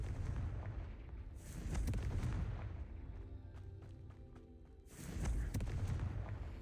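A Confringo spell explosion in the video game Hogwarts Legacy: a rolling, booming blast that swells, fades into a crackling rumble with scattered pops, then erupts again in a second loud burst.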